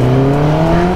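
A motorbike engine revs loudly and steadily with strong harmonic drone, held near and continuous for the whole second, no talk over it.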